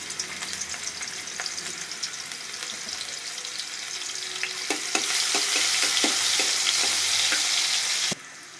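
Crushed garlic fries in hot oil with a constant sizzle that swells louder midway, with scattered clinks and stirring taps before it cuts off sharply near the end.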